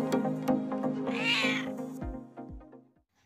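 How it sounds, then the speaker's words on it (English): A cat meows several times in quick succession, clear and close, with drawn-out tonal cries followed by a couple of short calls that fade toward the end, no talking. "C for cat."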